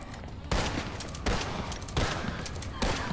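Shotgun blasts in a video game: four heavy, booming shots spaced roughly evenly apart, each with a sharp attack and a short rumbling tail, loud and close.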